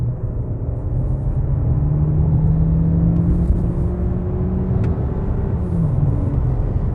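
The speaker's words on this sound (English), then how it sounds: "So if I punch it now, it's gonna go down a few gears and give us some power." A 2021 Volkswagen T-Roc 1.5 TSI in sport mode, heard from the cabin as it downshifts and accelerates hard, with a loud, steady engine drone whose pitch climbs gradually and a constant road rumble, and no talk.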